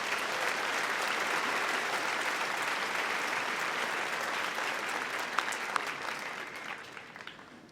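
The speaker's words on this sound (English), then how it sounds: "Please join me in a round of applause and recognition of the special level of accomplishments." A university fall commencement audience, Washburn University, claps in a sustained, even round of applause for graduates, fairly distant and steady before thinning toward the end.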